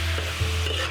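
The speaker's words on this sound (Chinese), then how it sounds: "继续的翻炒" Sichuan minced pork stir-fried in a wok, a dense continuous sizzle with a low hum and a brief scrape of the spatula, close and steady without any talking.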